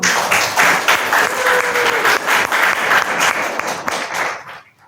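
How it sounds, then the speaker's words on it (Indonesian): Applause after a presentation at a university teaching session, a room of people clapping in uneven, pulsing waves for about four seconds before it tapers off and fades out. "Bisa diberikan tepuk tangan terlebih dahulu."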